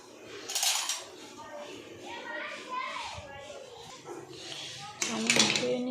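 Spoon clinking against dishes while chowmein is served at home, a few light, sharp metallic taps, fairly close, with talking and children's voices around.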